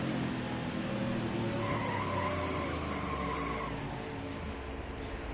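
Race cars launching together after a manual restart in the NASCAR Heat 4 video game, a loud, continuous roar of engines and tire noise filling the whole stretch with no talk.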